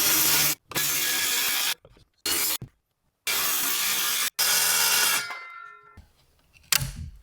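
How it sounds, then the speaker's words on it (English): A saw notches 2x4 framing studs to fit a window, cutting in several loud, steady bursts of rasping wood-cutting noise separated by short silences, with the final cut winding down. "So we're actually gonna have to notch out the 2x4s on either side where this goes"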